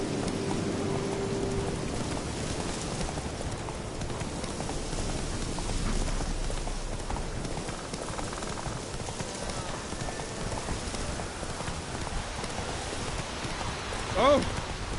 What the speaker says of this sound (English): Let it rain. Wash the blood from the fields.